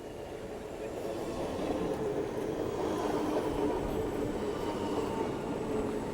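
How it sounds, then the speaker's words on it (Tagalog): A train arriving at a station in Västerhaninge, Sweden, rumbles steadily close by, its low roar and rattle holding constant with a faint metallic whine on top and no voices. "Dito na yung tren."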